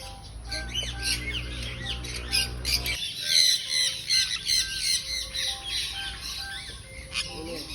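A pet bird gives a run of loud, close, harsh squawks in repeated calls, while people talk softly in the background.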